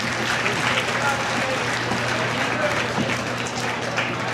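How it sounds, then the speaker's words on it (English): A crowd applauds two hogs in the show ring at the Mason County Fair 2024 hog show, with moderate clapping running continuously under a steady background hum. "I think these two just deserve a well-rounded applause."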